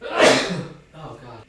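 One loud sneeze bursts out close to the microphone, then a brief exclamation from the person follows.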